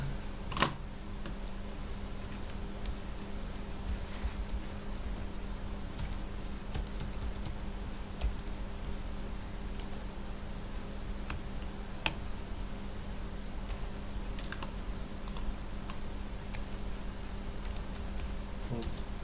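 Keys on a computer keyboard are tapped to enter a username at a login screen, a sparse run of quiet, irregular clicks against a low background hum.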